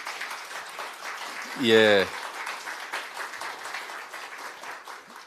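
Applause from the audience at a talk-concert event on overcoming COVID-19 and local autonomy, a continuous patter of clapping with a brief spoken interjection partway through.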